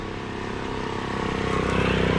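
A Honda Super Cub motorcycle with yellow spoke covers rides along, its small engine humming steadily and rising slightly in loudness as it draws nearer, with no talk.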